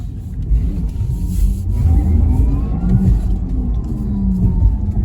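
Electric motor whine and low road rumble from a 2021 Porsche Taycan Turbo S accelerating, heard from inside the cabin, steady and fairly loud with a faint rising tone.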